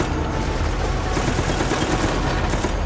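Rapid, continuous gunfire in Resident Evil: Operation Raccoon City, a dense, loud automatic barrage with no break across the whole stretch and no voices over it.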